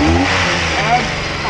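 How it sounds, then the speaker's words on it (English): A cheap auction car's engine turns over and revs, a steady mid-pitched rumble close by, with people talking over it. "This car did start and run"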